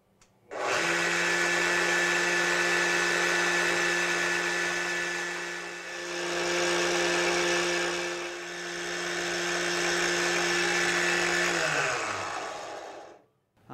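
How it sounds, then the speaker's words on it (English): A CNC router spindle on a guitar fret-slotting rig spins up and runs at a steady high-pitched whine with a strong harmonic hum for about eleven seconds, loud and close, then winds down. "I'm just going to flip the router."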